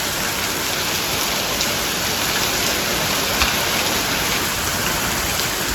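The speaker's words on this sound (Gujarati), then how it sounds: "ધોધમાર વરસાદ ભાઈ ફૂલ બાકાજીકી સાથે ભાઈ જો ચાલુ થઈ ગયો છે" Heavy rain pours down in a village on the first day of the monsoon, with strong wind. A dense, even wash of rainfall holds steady throughout, and no one speaks.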